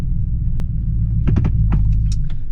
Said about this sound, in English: So we've got a little misfire somewhere.